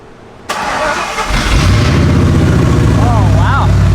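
A Ford Ranger's 5.0 V8 with a newly fitted exhaust cranks and fires, settling into a deep, loud rumbling idle with a brief rev; voices faintly underneath.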